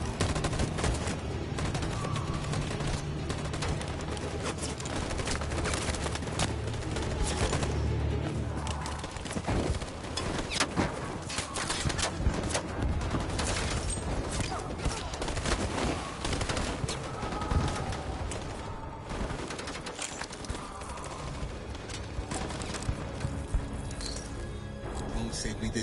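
Gunfire volley in Detroit: Become Human, with dense bursts of rapid shots and crackling fire mixed into loud, chaotic battle sound and music across the whole stretch, along with voices shouting.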